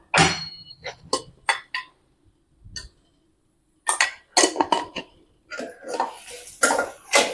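A spoon clatters and scrapes in a pan in short bursts, with a quiet pause partway through, as ingredients are sautéed with turmeric.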